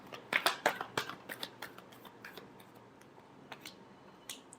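Tarot cards are shuffled in a last pass, giving a quick burst of crisp riffling snaps that thin into scattered soft clicks, close and fairly quiet.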